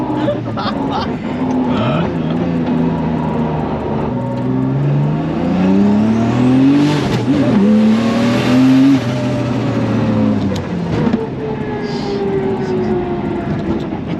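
A loud turbocharged 600 bhp 2JZ engine in a rear-wheel-drive Subaru Impreza revs hard, pitch sweeping upward as it comes on boost, then dropping back, with a throaty roar throughout.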